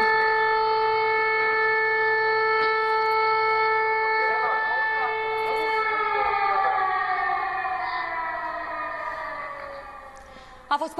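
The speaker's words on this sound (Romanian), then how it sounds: "sunt înspăimântați de sunetul sirenelor antiaeriene" Civil defense air raid sirens sounding over the city of Galați, Romania: loud, sustained harmonic wails that hold steady, then slide downward in pitch and fade, with brief knocks at the very end.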